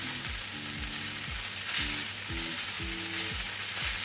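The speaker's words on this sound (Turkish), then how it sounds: "Karıştırmaya devam ediyorum." Oyster mushroom spaghetti with meat being stirred in a hot frying pan, a loud continuous sizzle with repeated scraping strokes of the spoon against the pan at an irregular rhythm.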